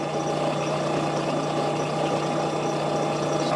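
A trolleybus engine idles at a steady, constant rumble with a continuous hum and mechanical drone, close and unbroken throughout.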